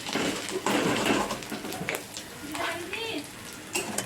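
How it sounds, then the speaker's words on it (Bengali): Crushed green chilies frying and being stirred in a pan over a low gas flame, a steady sizzle broken by scraping stirs, with brief bursts of talk over it. "একটু হালকাভাবে নেড়ে চেড়ে নিয়ে ভেজে নিতে হবে।"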